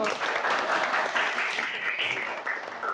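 A classroom of students applauds a classmate after a correct answer in a teaching session, a steady dense patter of clapping filling the room at moderate loudness throughout.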